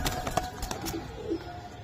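A silver Pakistani Fakirgul pigeon coos softly in low, brief murmurs against a noisy background of the surrounding loft.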